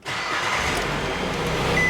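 A 2011 Nissan Cube 1.8 SL petrol hatchback with about 129,000 km starts and settles into a steady, smooth idle. The engine hum stays even and continuous, with no voices.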